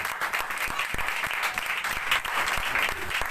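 Loud, steady clapping from a church congregation, many hands together in a dense continuous patter with a few sharper individual claps, no speech over it.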